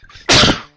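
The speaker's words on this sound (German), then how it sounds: "Hatschi, Gesundheit, danke." A single loud, explosive sneeze from a gamer during a Super Mario World session, bursting out suddenly after a quiet moment and trailing off briefly.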